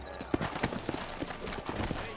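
Horse hooves clip-clop in Red Dead Redemption, set in New Austin, a steady rhythm of close, moderately loud hoofbeats over background ambience.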